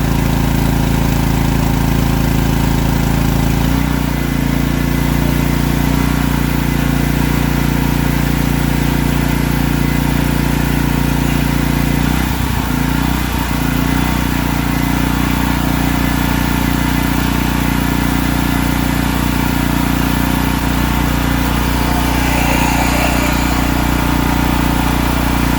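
Wacker portable generator running smoothly after a new carburetor was fitted, its engine holding a loud, steady idle-like drone throughout with a brief dip in tone partway through.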